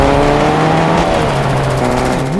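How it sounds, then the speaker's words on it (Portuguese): A car drives in the video game Fortnite, its engine humming steadily with a rising and falling pitch as it accelerates and eases off, loud and close throughout. "É muito bom ter carro no Fortnite"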